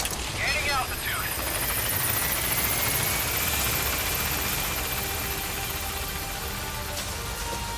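Steady, loud rotor wash and engine whine from a helicopter in flight in Metal Gear Solid 5: The Phantom Pain, a continuous roar throughout, with a player talking over it.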